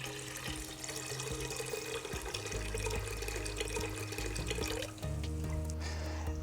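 Brewed flavoured tea pours into a kombucha mix with a close, steady trickling splash whose pitch shifts as the vessel fills, continuous for several seconds with no talk.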